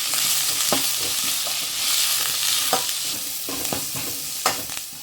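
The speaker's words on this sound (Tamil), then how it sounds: "வெங்காயம், கருவேப்பிலை, பச்சை மிளகாய் எல்லாம் போட்டுட்டு வதக்கிக்கலாம்" Onion, curry leaves and green chili sauté in a pan with a little salt, giving a close, steady sizzle broken by the scrape and clatter of repeated stirring.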